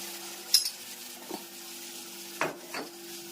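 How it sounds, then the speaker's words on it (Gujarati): Whole spices sizzling in hot oil for a vaghar tempering over a vegetable dish with ginger: a faint, steady frying hiss with a few soft utensil clinks and stirring sounds. "સરસ મજાનો વઘાર થઈ ગયો છે જોઈ શકો છો"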